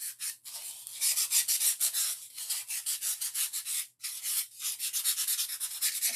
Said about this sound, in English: you're just going to sand down the edge.